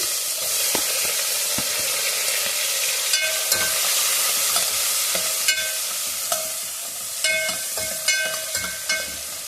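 Finely chopped onion fries in a pan for an avarekalu saaru, a steady close sizzle with frequent stirring clinks and scrapes throughout and no talking.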